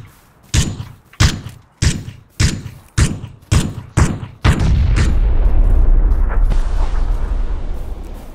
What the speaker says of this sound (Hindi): ग्रेनेड डालो वहां।